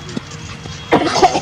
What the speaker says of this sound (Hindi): उसको खांस रहा है।